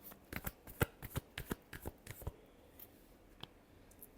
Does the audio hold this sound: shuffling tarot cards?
yes